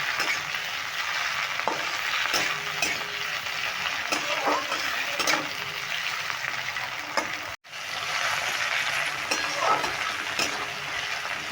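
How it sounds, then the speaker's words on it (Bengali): Chopped tomato and onion fry in a pan for a banana-flower curry, giving a steady close sizzle with occasional stirring scrapes and clinks and one brief dropout. "টমেটো আর পেঁয়াজটা একটু লাল করে ভেজে নেব"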